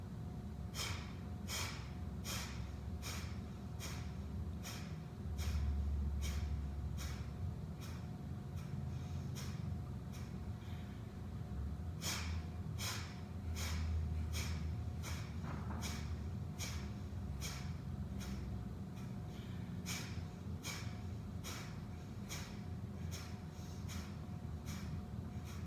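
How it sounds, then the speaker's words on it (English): Kapalabhati breathing practiced during a yoga meditation and breath work session: a long steady train of sharp, forceful nasal exhales pumping at an even rhythm, with a brief pause midway before the rapid series resumes, close and alone. "If you're having some trouble with your Kapalabhati breathing, using the mouth can also be an option too."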